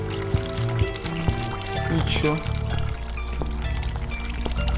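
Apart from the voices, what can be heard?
hot water running from a tap in The Cat Lady video game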